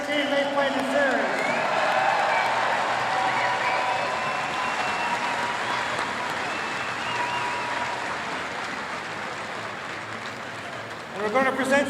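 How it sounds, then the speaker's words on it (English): Long sustained applause rolls through an arena after a Major Series Lacrosse final between Peterborough and Six Nations, with scattered cheers and whistles, slowly fading before a voice returns at the end. "a round of applause for the great game they played in the series."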